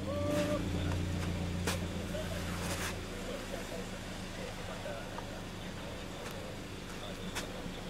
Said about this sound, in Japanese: 遠方のナンバーをつけた車も時折通って